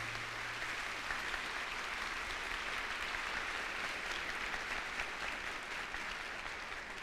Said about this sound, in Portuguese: Nós gostaríamos que vocês aplaudissem todas as pessoas responsáveis por essa oportunidade.